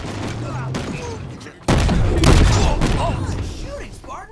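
Gunfire in a Spartan video game match, a dense burst of rapid shots that jumps louder partway through and keeps rattling on, mixed with a talking voice throughout.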